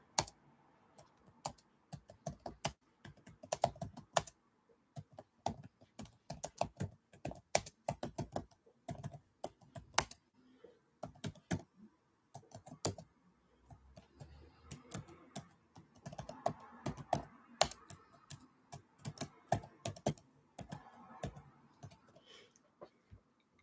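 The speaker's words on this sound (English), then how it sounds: "then I'm typing my name on the chat box" Fingers type steadily on a computer keyboard, a dense close run of light key clicks with brief pauses between bursts, going on for over twenty seconds without speech.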